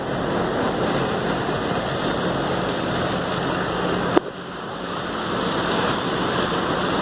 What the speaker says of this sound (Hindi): ये सारा सीवरेज का पानी है, ये मस्जिद में तैर रहा है।